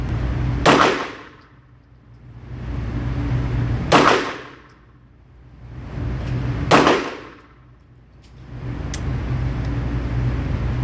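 Pistol hammer or striker falling on a dud round after a failure to fire, three sharp metallic clacks spaced a few seconds apart over a steady low outdoor rumble, with a fainter tick near the end.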